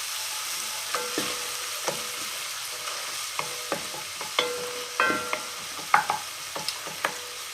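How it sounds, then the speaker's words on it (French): A spoon stirs paprika into a lentil and potato vegetable stew in a pan, giving scattered scraping clicks and soft knocks over a low sizzle, close and fairly quiet. "On mélange tout ça."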